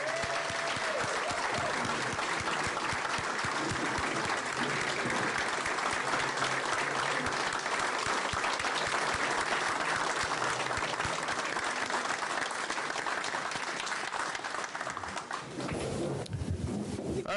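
An audience at a board of education meeting gives retirees a sustained round of applause, dense steady clapping that carries on for about fifteen seconds before thinning out near the end.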